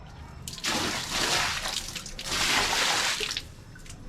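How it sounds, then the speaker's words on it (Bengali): A full bucket of water poured out at home in two heavy splashing gushes, each about a second long, close and loud, with brief dripping between and after. "পুরো বালতিটা ঢেলে দে একদম পেছন থেকে দিয়ে দে বালতিটা ঢেলে"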